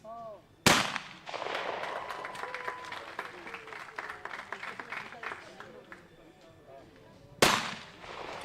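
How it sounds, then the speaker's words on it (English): Two loud shotgun reports at a trap shooting final, one early and one near the end, each a sharp broadband blast with a ringing tail, while a commentator talks in the middle stretch. "So Thomas Betts still to shoot"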